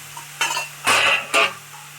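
A spatula stirs bitter gourd in a frying pan, producing three short, close scraping strokes over a low steady hum.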